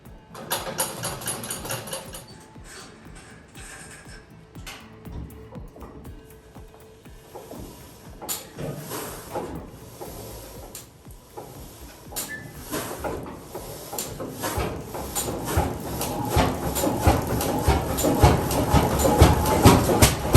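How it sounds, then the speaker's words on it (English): A Wright R3350 18-cylinder radial aircraft engine, long stored, cranking and running with uneven popping and clattering that builds into a louder, denser roar toward the end. "R3350, an 18-cylinder radial engine, sat stored away for over 3 decades in a container."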